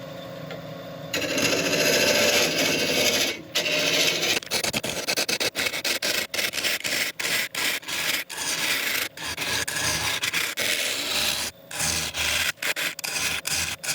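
A carbide woodturning tool cuts a wooden bowl on a lathe in a close, loud scraping rasp, with steady stretches broken by frequent short gaps as the tool lifts on and off the wood.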